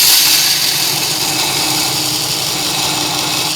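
A VEVOR 30 x 1-inch variable-speed belt grinder grinding down a metal bolt at 1,000 RPM, giving a steady, loud, close abrasive whir and rasp that holds evenly throughout and cuts off sharply at the end.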